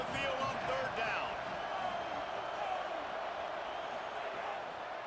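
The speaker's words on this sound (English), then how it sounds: "Here comes his home crowd as the defense tries to get off the field on 3rd down" Home crowd noise in a college football video game, a steady broad roar of cheering that stays loud and unbroken throughout, with a few sharper whoops rising out of it early on.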